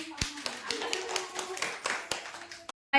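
Children at an anganwadi clap their hands in a short burst of quick, uneven claps, fairly close, before it cuts off into a brief silence.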